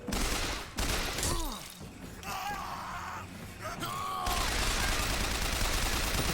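Loud, dense bursts of repeated gunfire in BioShock Infinite, with a break mid-clip filled by groans and gasps before a sustained noisy barrage resumes.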